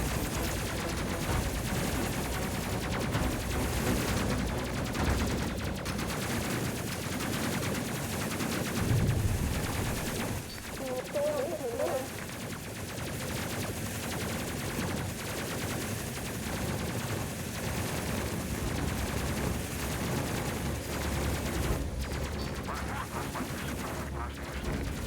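Rapid, sustained gunfire from the space combat video game Space Crew as the crew shoots at targets, a dense continuous barrage of shots with game background sound running the whole time.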